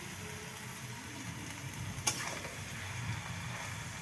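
Duck meat and potatoes sautéing in a pan, a low continuous sizzle with a single sharp clink of a utensil partway through.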